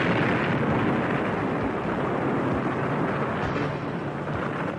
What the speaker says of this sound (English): He fires his rocket launcher point blank into the pyramid.